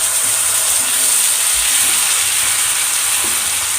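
Loud, steady sizzling and hissing of cashew-coconut paste mixed with yogurt frying in a pan, continuous and close with faint occasional stirring scrapes.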